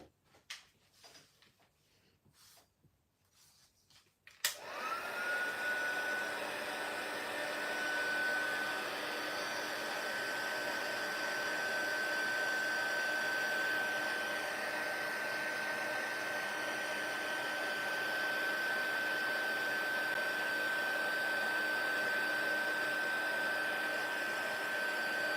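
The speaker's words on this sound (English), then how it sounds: "Right, where's my heat tool? Here it is." Embossing heat tool switched on with a click and then blowing hot air in a steady, even whine for about twenty seconds, preceded by faint handling knocks on a crafting table.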